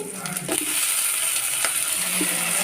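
Onions, tomatoes, garlic, ginger and green chillies fry in oil for a roadside-style salna, giving a steady, close, bright sizzle with a few faint stirring clicks, and no talking.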